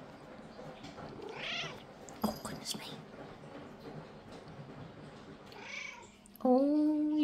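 A long-haired pet cat trills and meows at close range, with soft chirping calls near the end, while someone speaks over it in a low, whispery voice.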